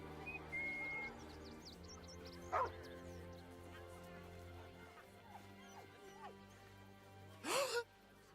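A dog named Scratch in Baldur's Gate gives two short barks, one a few seconds in and a louder yelping one near the end, over a quiet ambient music bed.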